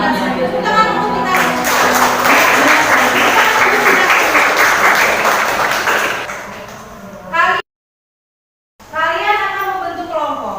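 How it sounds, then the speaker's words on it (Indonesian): Classroom applause from students, a dense burst of clapping under a teacher's voice, fading out after several seconds before a short gap and more speech. "Tepuk tangan untuk kita."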